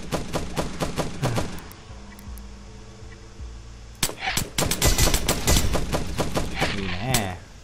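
Turret gunfire in the video game The Last Stand Aftermath comes as rapid bursts of automatic shots, close and loud, with scattered single cracks and a dense, sustained volley in the second half.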